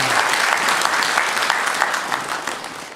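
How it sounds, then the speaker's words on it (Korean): A church congregation applauds during a Sunday morning worship service, a steady, full wash of clapping from many hands that holds at an even level for the whole stretch without any talk. "우리 영광의 박수를 우리 하나님께 올려드리겠습니다"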